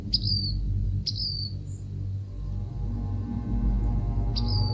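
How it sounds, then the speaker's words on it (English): Three short, high bird chirps spaced about a second apart over a low background hum, with faint fainter tweets in between. "I'm hearing a bird. It's a bird."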